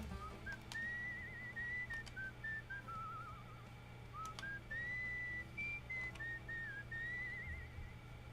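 A character whistles a wandering melody in Where the Water Tastes Like Wine, set in the Depression-era 1930s, the clear tune steady over a continuous low music bed.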